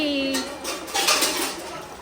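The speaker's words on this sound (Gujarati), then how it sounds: "छोकरी बर्तन घिस रही है" A girl scrubbing and washing dishes, with pots, plates and cutlery clattering and scraping continuously for a couple of seconds at close range, and no talk over it.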